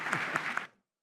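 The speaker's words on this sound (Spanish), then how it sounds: "un aplauso para los panelistas, por favor" Brief burst of audience applause for panelists at a Latin American and Caribbean gas production conference panel, a dense patter that fades out within under a second.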